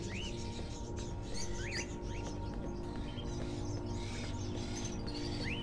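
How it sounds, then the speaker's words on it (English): Caged crows in a Fahrenheit video game scene give off high chirps and calls over a steady, dense ambient background hum. "Are those crows in the cages?"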